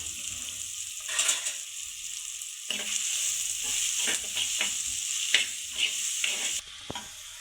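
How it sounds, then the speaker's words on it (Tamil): Onions fry in oil with mustard seeds while being stirred for a chicken gravy, a steady close sizzle broken by repeated scraping strokes of a spoon, with the hiss dropping briefly near the end. "வெங்காயத்தை போட்டு பொன்னிறமாக ஆகட்டும்."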